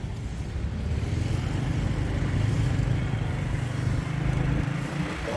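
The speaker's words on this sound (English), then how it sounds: "I'm just going to jump on a bike. So 20 baht motorbike." A small motorcycle taxi carries a passenger through Bangkok streets, its engine droning steadily and close with a low, continuous hum and road rumble for the whole ride, no voices over it.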